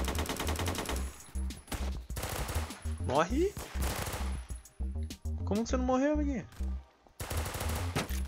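Rapid bursts of Roblox gunfire from an AK47 and G18 crackle in quick succession, with someone talking excitedly over the shots.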